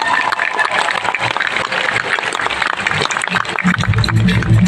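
An audience at a Healthy Living Nepal second anniversary event gives loud, dense applause to welcome a speaker, with a voice on the microphone over the clapping and music starting near the end.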